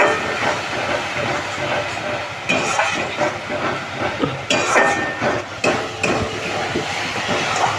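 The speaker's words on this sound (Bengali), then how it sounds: "এখন কষাবো কষিয়ে যখন তেলটা ছেড়ে আসবে" A salted spice paste fries in oil in a pan for a Bengali fish recipe, a loud, continuous hiss with occasional scraping from stirring.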